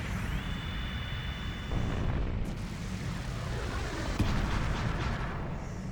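The Fire Pillar magic attack in the video game Chrono Cross roars as a continuous low rumbling blast, with a thud partway through, a tonal sweep at the start and a sharp crackling hit near the end.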